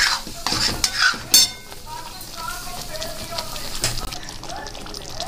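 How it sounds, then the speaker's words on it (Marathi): Butter matar paneer curry with added water being stirred in a pan, with soft scraping and clinks of a spoon against the metal under steady kitchen background noise. "आता हे आपण एकदा छान प्रकारे अजून हलवून घेऊया"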